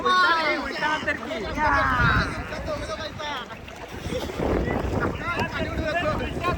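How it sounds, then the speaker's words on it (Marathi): Kayaks racing on the sea off Khavane and Nivati beaches in Konkan, with wind buffeting the microphone, water noise and people talking and calling out throughout. "आता कायाकिंगची रेस लावल्या तिन्ही बोटीमध्ये."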